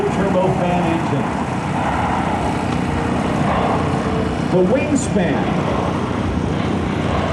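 A Boeing C-17 Globemaster III with four Pratt & Whitney F117 turbofan engines gives a loud, steady jet roar during an air show demo, while an announcer talks over the public address.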